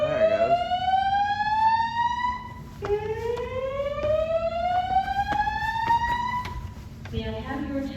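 A building fire alarm sounds in long rising whoops, each sweep repeating loudly through a speaker, with a brief tonal pattern at the end.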